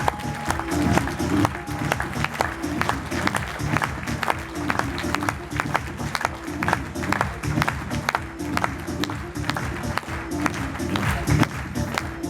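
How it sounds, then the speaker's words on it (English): An audience at a ViSalus training event applauds as the company's millionaires come up on stage: loud, continuous clapping throughout, with rhythmic sharp claps, some cheering and a bit of talk mixed in. "Guys, give them a round of applause."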